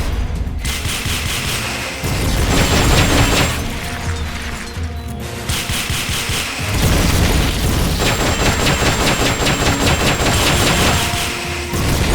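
Rocket launcher fire in the video game Metal Gear Solid: Peace Walker during a boss battle, loud repeated booming launches and explosions amid dense rattling gunfire, sustained and close.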